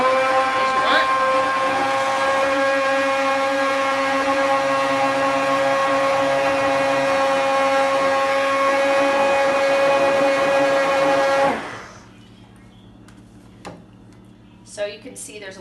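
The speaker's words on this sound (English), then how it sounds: "Looks like I didn't have my blender put together properly." A blender froths bulletproof coffee with a loud, steady whirring drone for about eleven seconds before cutting off abruptly, leaving a quiet room with a few small clicks and knocks.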